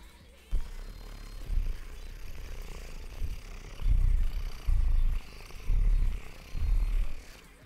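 A person imitates a cat's purr with low, rumbling vocal bursts in a series of rhythmic pulses, close to the microphone and growing louder toward the end.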